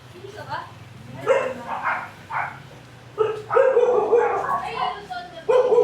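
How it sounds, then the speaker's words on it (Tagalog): Several dogs bark and yip in repeated bursts near a river in Mayantoc, Tarlac, moderately loud and close, with a few whimpers between the barks. "Ang daming aso eh. Ang dami ng aso ko."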